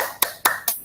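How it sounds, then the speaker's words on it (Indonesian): Three sharp, evenly spaced hand claps ring out close and crisp from students during a morning classroom teaching-practice lesson, each one short and bright with quiet gaps in between. "Beri tepuk tangan untuk kita semua pada pagi hari ini."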